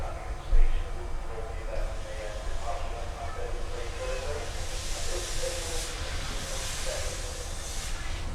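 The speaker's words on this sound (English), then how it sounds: "we can also hear the noise from the steam engine building up ahead of steam" Steam locomotive hissing as it builds up steam at a train station, a steady broadband hiss over low rumble throughout, with a brief louder burst near the start and faint station sounds mixed in.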